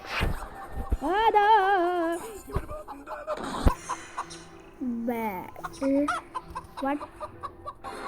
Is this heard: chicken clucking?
yes